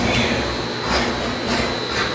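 A Pontiac 350 HO V8 with a carburetor runs steadily on a dyno, giving a loud, continuous engine drone with no talk over it.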